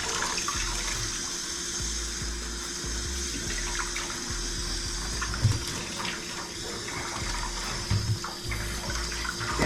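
Warm water runs from a tap to fill a cat's bath, a steady, close splashing flow that continues without a break.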